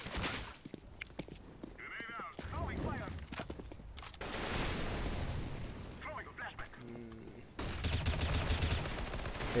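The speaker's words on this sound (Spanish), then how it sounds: "Le ha disparado a través de la caja." Counter-Strike: Global Offensive gunfire shot through a box, appearing as bursts of rapid shots mixed with footsteps and game noise, with a commentator talking over it in Spanish.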